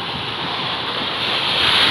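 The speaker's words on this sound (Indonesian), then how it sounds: "ini air laut pasang banget guys Masya Allah" Sea waves at high tide on the coast at Krui, Lampung, roaring as a continuous loud wash of surf that swells slightly toward the end.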